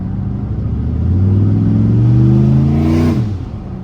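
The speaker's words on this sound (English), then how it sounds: "that's the wastegate that's opening right under my seat" A turbocharged car engine with an upgraded ball-bearing 76/65 turbo revs up loudly with rising pitch, then drops off abruptly as the wastegate under the seat opens, heard from close inside the car.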